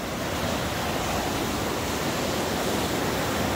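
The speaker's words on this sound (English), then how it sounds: "Hopefully you can hear the audio over the waves" Lake waves wash against the shore at Pictured Rocks National Lakeshore, a continuous broad hiss of surf with some wind noise, steady and fairly soft, with no voices.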